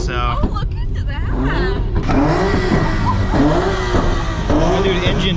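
A Mazda Miata revs its engine at a crowded Dallas car meet, throttle blips rising and falling beneath people talking nearby. The engine is close and loud and mixes with the chatter.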